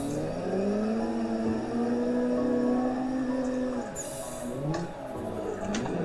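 A drift car engine in the racing game Assetto Corsa, sustained high revving with wavering pitch as the throttle holds and dips, with a tire squeal and brief gear-change drops near the end.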